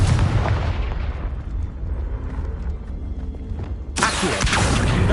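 A Confringo blasting spell explodes in Hogwarts Legacy, a loud, dense boom that rumbles and decays over a few seconds before a second sharp, bright blast hits near the end.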